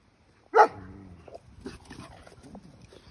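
A single sharp, loud dog bark close by, followed by soft whimpers and small rustling noises.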